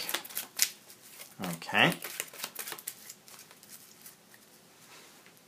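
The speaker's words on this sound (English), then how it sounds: "put it in my hand, and then shuffle my deck." A deck of cards for the Sentinels of the Multiverse card game is shuffled in a brief, quiet riffle, and a person speaks a single word around it.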